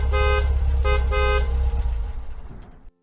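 Car horn honking in two long blasts as a car pulls up, loud and close, with the engine idling underneath before it cuts off abruptly.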